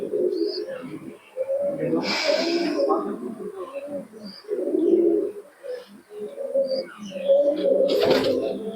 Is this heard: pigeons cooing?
yes